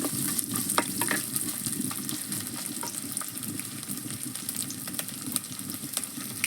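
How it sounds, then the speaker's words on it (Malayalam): Coconut pieces frying in hot oil for a jackfruit-seed curry, a steady dense sizzle with scattered crackles and occasional stirring scrapes, close and continuous with no talking. "തേങ്ങാക്കൊത്തൊന്ന് നന്നായിട്ട് ബ്രൗൺ കളറാവുന്നിടം വരെ ഒന്ന്"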